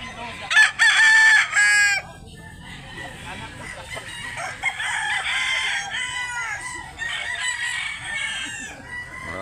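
A white Kelso rooster crows nearby, loud and close, followed by further crowing and clucking from fowl at a chicken market in Mantalungon, Cebu, with someone talking faintly in the background.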